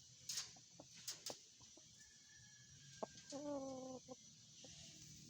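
Chickens cluck in short bursts with a few higher squawks, fairly close, over a quiet outdoor background with no talking.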